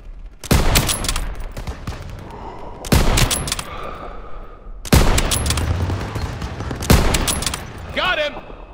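Gunfire from the World War II video game Call of Duty WW2, with loud bursts of rifle and machine-gun fire in four heavy clusters and chaotic battle noise between them.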